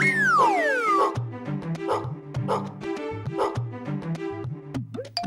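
A dog barks repeatedly in short sharp bursts at a steady rhythm, close and loud, following a rising and falling whistle-like tone at the start.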